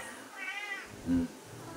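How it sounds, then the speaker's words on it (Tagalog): A gentle pet cat gives a soft, drawn-out meow, then a short, low second mew, close by in a quiet room. "Ito yung pusa kong alaga na mabait."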